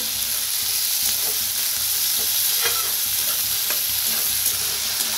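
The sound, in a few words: tomatoes frying with onions in pan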